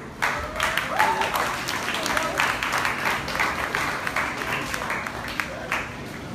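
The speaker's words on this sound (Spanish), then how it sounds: "fuerte el aplauso para ellos" A crowd applauds between songs at a music performance with steady, dense clapping that holds for several seconds, with voices faintly mixed in.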